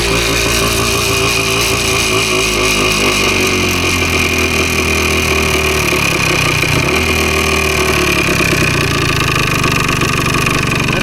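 A Gas Gas PE250 dirt bike engine idles steadily and loudly throughout, a constant rumbling drone with slight shifts in pitch and no speech.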